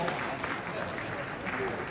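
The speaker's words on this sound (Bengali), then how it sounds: "কোনো দোকানে ফুটবলাররা অ্যাটলিস্ট খুশি একটু হাততালি দেন।" Dense, steady clapping from a group during a light-hearted Bangladeshi interview with adviser Asif Mahmud, a continuous close wash of hands at even loudness without pause.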